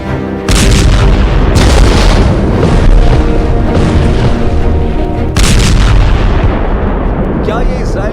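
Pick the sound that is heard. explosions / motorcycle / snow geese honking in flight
explosions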